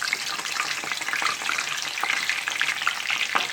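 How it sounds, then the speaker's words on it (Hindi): Chana dal fries in hot oil inside a metal strainer, giving a loud, continuous sizzle and crackle with faint scraping as it is stirred, and no voices. "और अब इसमें इसको फ्राई करते हैं छलनी समेत इस तरह।"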